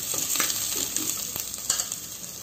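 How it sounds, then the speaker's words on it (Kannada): Oil sizzles steadily in a pan before pumpkin goes in for a stew. Faint stirring taps and clinks sit over a continuous close frying hiss. "ಇದನ್ನು ಸ್ವಲ್ಪ ಫ್ರೈ ಮಾಡ್ಕೊಳ್ತಾ ಇದ್ದೇನೆ"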